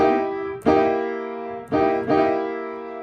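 Keyboard chords are struck three times, each ringing out and decaying, with a quick note slide from a minor to a major third.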